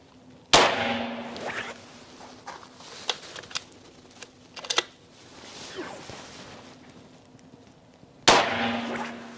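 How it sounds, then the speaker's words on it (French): Seneca Sumatra 500 lever-action air rifle fired outdoors: two sharp, loud cracks several seconds apart, with faint clicks and handling noises of the lever action in between. "Voilà, j'ai tiré 3 coups, rien à redire, super bonne petite carabine"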